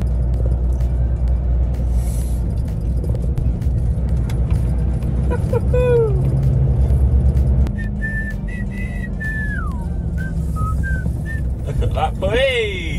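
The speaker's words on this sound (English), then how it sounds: "Oh my word, there's a lorry." A lorry rumbles past close by with a low, sustained engine drone, heard from another truck on the road; whistling tones rise and fall over it partway through.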